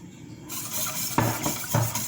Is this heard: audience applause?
no